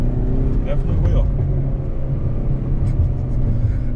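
A 2019 Hyundai Veloster N with manual gearbox pulls in second gear, its engine a loud, steady low rumble heard from inside the car without any talk.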